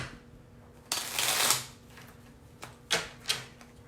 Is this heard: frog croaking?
no